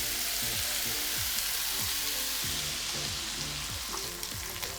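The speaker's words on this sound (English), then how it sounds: "Just let it sear. Let it go for like 3-4 minutes." Salted meat for a ragu sears in a pan with a steady, even sizzle, left untouched and alone with no voices, close and constant from start to finish.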